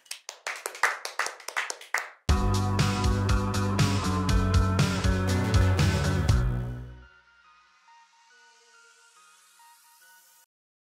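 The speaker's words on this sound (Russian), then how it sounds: "Аплодисменты где?" Audience applause breaks out briefly in scattered claps, then a loud burst of chiming, sustained musical tones takes over before fading to a thin ringing tail.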